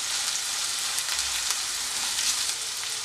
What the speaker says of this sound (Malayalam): ഇതേപോലെ ഒരു സവോളയാണ് അത് ഞാൻ ചെറുതായി മുറിച്ചെടുത്തിട്ടുണ്ട് അത് ചേർത്തൊന്ന് വഴറ്റുക